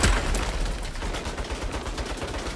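Turret gunfire in the video game Saints Row rattles in a dense, continuous burst of rapid shots with booming low impacts, loud and close, with no talk over it.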